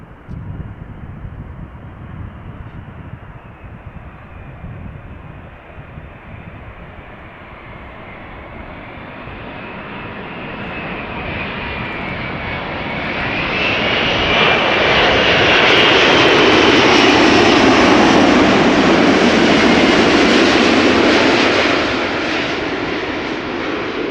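An Emirates Airbus A380 jet lands at Schiphol, its engine roar building from a distant whine to a loud, broad rumble that peaks overhead and holds steady near the close, with wind buffeting throughout.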